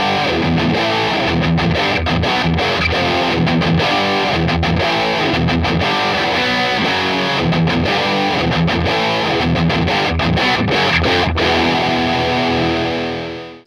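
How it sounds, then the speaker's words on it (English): A Yamaha Pacifica 212VQM with a maple top plays through a cranked, distorted amplifier from its humbucker pickup, giving a thick hard rock tone. Dense, loud riffing with rhythmic chugging and short stops runs continuously, then cuts off at the end. "if you crank up the distortion on your amplifier, you can get some decent hard rock tones"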